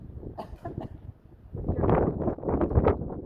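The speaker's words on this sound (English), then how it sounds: "now we've got the wind" Outdoor wind buffets the microphone while someone works with a horse. After a softer start it swells into rough, gusty rumbling bursts that come and go.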